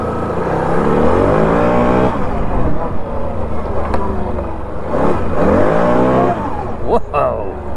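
A Can-Am Renegade XC 1000 ATV that sat unused for seven months revs loudly and close, its engine pitch sweeping up and down in repeated surges with a brief dip midway.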